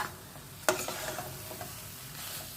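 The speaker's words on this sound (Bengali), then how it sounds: "ভাজা ভাজা করে শুকনো শুকনো করে নিচ্ছি" Food frying dry in a pan crackles softly while a utensil stirs it, with one sharp scrape near the start and fainter clicks after, all fairly quiet and close.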